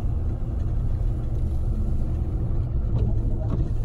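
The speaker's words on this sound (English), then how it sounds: "we're driving literally like 15 miles per hour just because how snowy it is" A car creeps along a snowy road at about 15 mph, giving a steady low rumble of engine and tyres with soft crunching texture, continuous and close throughout.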